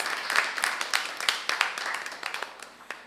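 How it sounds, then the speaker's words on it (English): Applause from an audience honoring winning teams after a closely contested octafinal round, scattered claps rising and fading over a few seconds, moderately distant and thinning toward the end. "Let's give them a round of applause"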